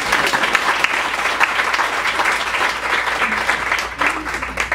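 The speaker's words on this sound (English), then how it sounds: "You can applaud for that." Steady applause from a comedy show audience, a dense wash of clapping that holds at an even level for several seconds.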